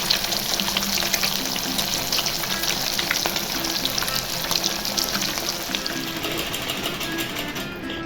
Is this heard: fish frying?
yes